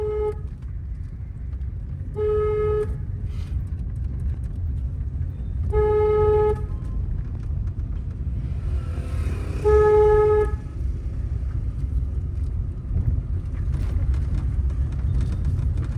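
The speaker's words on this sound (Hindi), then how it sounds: "लॉन्ग हॉर्न प्रेस करिए, सीधा चलना है।" Car horn sounds in long sustained honks, three or four separated blasts over steady engine and road rumble, while a car creeps through a narrow lane in first and second gear.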